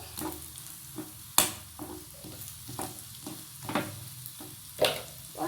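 Chilies dropped into hot oil in a pan, giving a soft sizzle with faint stirring scrapes and a few sharper pops and clinks, quiet and close with no talk.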